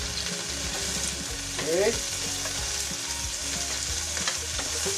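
Garlic sautéing in oil in a pan while longganisa is set aside, a close crackling sizzle with scraping stirs and a brief clink, a short spoken word over it.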